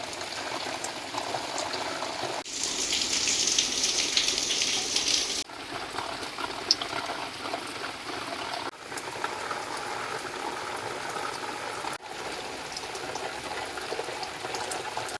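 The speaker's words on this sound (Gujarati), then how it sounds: "ગામોમાં વરસાદ વરસી રહ્યો છે" Rain pours over villages around Rajula and Jafrabad in Gujarat, a steady, dense hiss of falling water that shifts in loudness across several cuts, with a louder, brighter burst early on.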